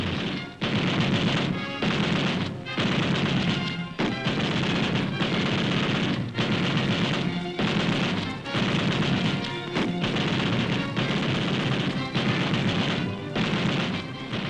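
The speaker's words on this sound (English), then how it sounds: "our B-29 bombers continue to pound key enemy positions in round-the-clock raids while fighter strafing attacks stall communist supply lines" Korean War newsreel footage of B-29 bombing raids and fighter strafing gunfire, with rapid bursts of blasts and crashing impacts repeating loudly and densely across the whole stretch, no voices.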